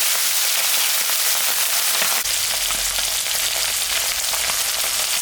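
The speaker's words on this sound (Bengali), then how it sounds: "মাছটা এখন ভাজি।" Tengra fish sizzles steadily in hot oil in a pan, a loud continuous frying hiss with crackling pops and no voices.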